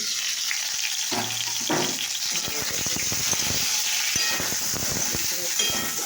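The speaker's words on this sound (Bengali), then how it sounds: "এবারে ঢাকা দিয়ে ভেজি মাছগুলো দেখি" Fish sizzles and crackles in hot oil in a covered pan, a dense steady frying hiss with occasional stirring scrapes, close and fairly loud.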